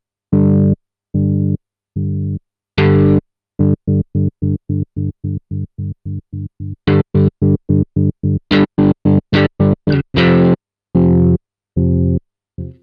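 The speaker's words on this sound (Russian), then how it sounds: "Сначала тремоло в режиме четверти, потом в режиме восьмой триоли." An electric guitar runs through a TC Electronic Pipeline Tap Tremolo pedal, chopped into distinct pulses, first in slower quarter-note steps, then faster eighth-note triplet chops; loud and up close, no talk.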